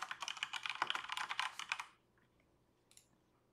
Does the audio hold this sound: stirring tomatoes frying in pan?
no